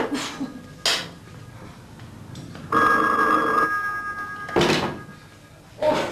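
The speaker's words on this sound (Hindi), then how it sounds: "फोन की घंटी सुने, फिर आगे खा लेंगे" A telephone bell rings loudly once in a long trill, framed by a few sharp knocks and thuds before and after.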